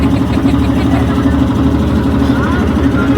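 A boat engine runs nearby on the water with a steady, loud, throbbing low drone that holds evenly for the whole stretch.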